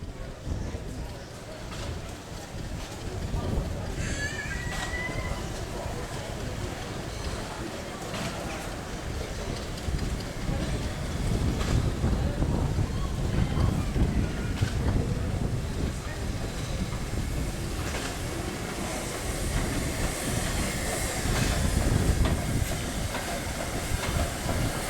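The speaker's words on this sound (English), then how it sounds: "Fenchurch passes through platform 2 with another brake van shuttle" A small steam tank engine hauling a brake van shuttle rolls through a heritage railway station platform, a steady rumble of wheels and faint clanking with some hiss, heard from a moderate distance throughout.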